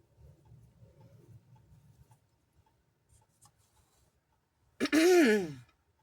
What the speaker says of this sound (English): I've just been clearing my throat all day.